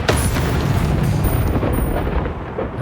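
The Incendio fire spell is cast in Hogwarts Legacy, giving a dense, roaring whoosh of flame that stays loud and continuous from start to finish.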